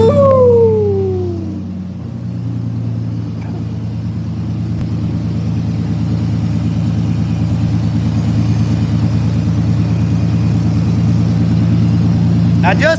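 A 1986 Chevrolet Silverado's 4.3 V6 engine, running without an exhaust, idles with a steady low rumble, loud and close, after a brief rising whine at the start.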